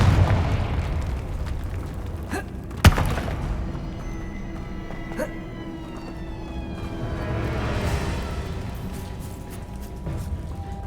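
A Confringo fire spell bursts with a sharp, loud blast early on in the Hogwarts Legacy video game, then fades into a low, steady game ambience with faint whooshing tones.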